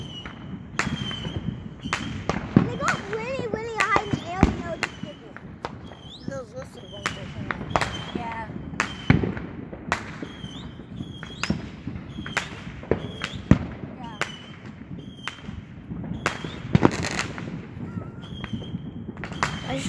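Repeated sharp Fourth of July fireworks bangs and crackles, irregular and fairly loud, some booming distant, with people talking over them throughout.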